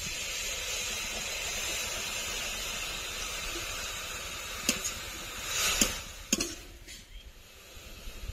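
Grated carrot frying in a pan gives a steady broad hiss, then sharp clinks and a sudden surge of sizzling steam as water is poured in, settling into quieter bubbling.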